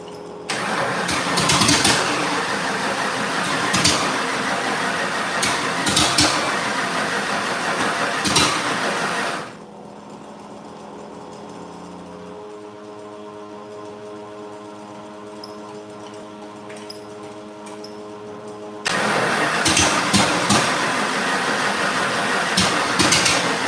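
A 1989 Ford Mustang with a 351W V8 cranks and catches, then runs loudly for several seconds before cutting out. A quieter steady hum follows, and the loud running returns near the end, close by, with no voices.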